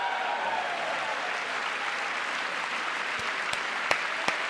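An audience applauds at a Trump speech after he mentions the Gulf of America. The clapping is a sustained, even wash of sound, with a few sharp clicks standing out near the end.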